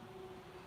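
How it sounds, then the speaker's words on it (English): A train passes at night about a kilometre away, heard as a faint, steady low drone with a sustained tone that holds unchanged through the quiet, with no voices. "When it gets quiet at night time, you can hear the trains. Can you hear that train?"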